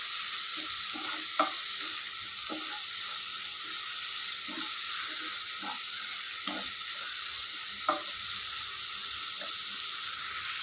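Vegetables sautéing with salt in a pan for a capsicum and dal dish, a steady soft sizzle throughout with occasional light scrapes and taps of a stirring spoon.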